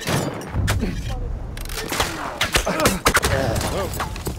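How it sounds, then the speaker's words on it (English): A landship's machine guns fire in Battlefield 1's Sinai Desert conquest battle, giving rapid bursts of gunfire and heavy thuds amid game chaos, with a player talking over the shots. "I cannot underestimate that land ship's machine guns"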